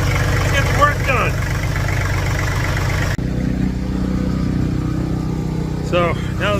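A tractor engine running after being repaired outside a garage, a steady low idling rumble that carries on throughout. Faint whistle-like sounds come and go above it, and a brief cut near the middle changes the tone of the drone.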